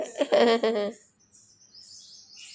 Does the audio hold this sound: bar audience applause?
no